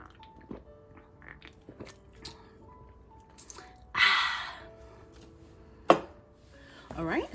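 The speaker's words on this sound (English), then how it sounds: "I'm gonna go ahead and take a sip." Sips of Trader Joe's raspberry lime sparkling water: a hissing fizzy burst with swallowing and small mouth clicks, close and quiet apart from two sharper moments.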